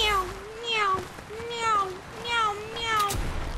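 A person imitates a cat's meow over and over during a Fortnite match, sounding a few drawn-out, rising and falling meows, close and loud and alone.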